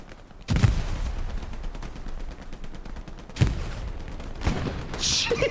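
Gunfire and explosions in the World War II shooter game Hell Let Loose, loud booming blasts at the start, middle and end over a steady rumbling battle din.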